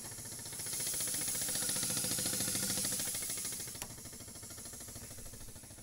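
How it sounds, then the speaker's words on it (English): A pressure brake bleeder in a workshop pushes brake fluid through a car's brakes, making a steady, rapidly pulsing mechanical hum and hiss that swells in the first seconds, then settles slightly quieter, with a brief click near the end. "This makes life a lot easier when you're pressure bleeding brakes."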